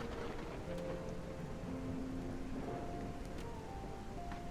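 Steady rain falls in the colony-building video game Whiskerwood, a continuous soft hiss under faint sustained tones, with no voices.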